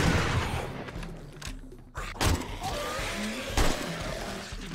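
Several sharp gunshots crack in the 7 Days To Die zombie game, spaced irregularly over a dense, rumbling background of game noise.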